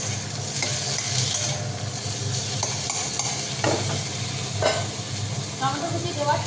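Chopped tomato stir-fries with lightly fried potatoes in a pan: a continuous sizzle under repeated scraping strokes of a spatula and occasional utensil clinks, close and fairly loud.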